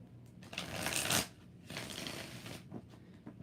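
Tarot cards being shuffled by hand, a close, quiet flurry of riffling bursts.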